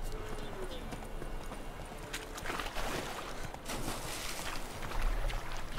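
A horse's hooves clip-clop steadily as it follows along in The Witcher 3: Wild Hunt, a continuous walking rhythm of close, distinct hoofbeats over a bed of ambient game sound, with no voices.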